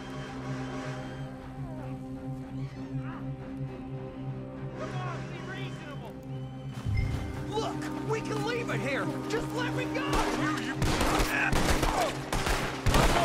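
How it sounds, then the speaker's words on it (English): Gunfire in Red Dead Online, a burst of rapid shots fired in a rough volley after quieter ambience, with people talking over the scene. "Yeah, they're even shooting him to death."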